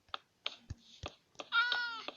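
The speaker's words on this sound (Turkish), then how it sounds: "Aa kedimiz oldu." A Minecraft cat meows in-game, several short calls followed by a longer, louder drawn-out meow, fairly close and clear with no talk over it.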